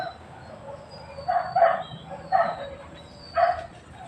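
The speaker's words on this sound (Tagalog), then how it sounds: "Maraming kumakahol na aso doon sa ano." Several dogs bark in a forest in the provinces, three distinct bursts of barking at a moderate distance over a steady outdoor background, with no talk.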